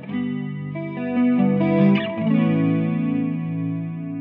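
Electric guitar through a Boss GT Pro processor with its chorus effect engaged, sustained chords and single notes shimmering with a wavering, doubled quality, played loud and close with no talking.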